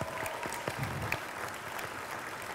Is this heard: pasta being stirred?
no